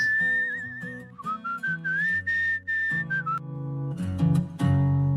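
Melodic human-style whistling from the video game Where the Water Tastes Like Wine, a clear tune of sustained and sliding notes in short phrases over low instrumental backing, loud and close.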